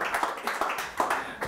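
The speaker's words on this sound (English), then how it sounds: "Applause!" Brief, faint audience applause, with scattered hand claps coming in quick uneven bursts.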